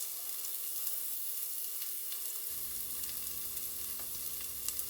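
White onion fries in heated cooking oil with a soft, steady sizzle and faint crackles, quiet and close, with light scraping ticks now and then and no one talking.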